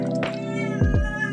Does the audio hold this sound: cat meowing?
yes